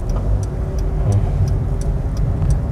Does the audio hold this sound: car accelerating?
yes